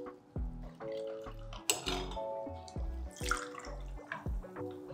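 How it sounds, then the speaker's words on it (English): Sparkling water is poured into cocktail glasses for a Tom Collins, with liquid splashing and glassy clinks in short bursts close by, no talking. "So 2 ounces or 60 mils of sparkling water in each."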